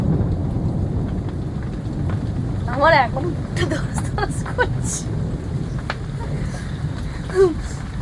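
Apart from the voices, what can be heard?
rain and thunder during a thunderstorm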